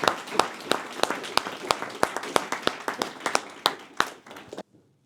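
Applause from an audience at an evening community meeting on Cuba, sharp claps mixing into a dense, fairly close wash for several seconds, then stopping abruptly into near silence.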